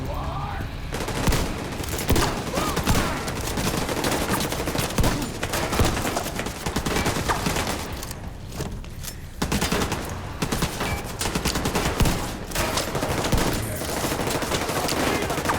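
Dense, sustained gunfire from an enemy turret and other weapons in The Division 2 shooter game, loud and continuous with brief lulls, overlapping bursts and impacts, with a shouting voice buried in the mix.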